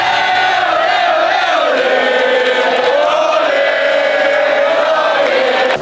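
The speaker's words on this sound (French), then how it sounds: "ça peut pas être la fête nationale sans que la foule chante ceci" A large crowd at a Quebec Fête nationale (Saint-Jean) party sings together in a loud, sustained chant, voices blending into a continuous swelling roar.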